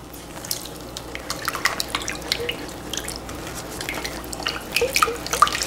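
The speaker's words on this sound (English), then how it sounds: "And now we give it a nice stir." A spoon stirs a wet shrimp ceviche mixture with a splash of cooking water, giving soft, close squelching and dripping sounds that grow a little busier toward the end.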